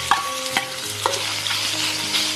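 Beef is stir-fried in a hot wok with vegetable oil. The sizzle holds steady and close, broken by a few sharp clanks and scrapes of the pan, with no voices.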